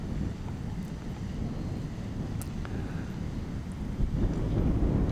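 Steady low wind buffeting the microphone at an F5J glider competition flyoff in Deva, Romania, a dull continuous roar that swells slightly toward the end.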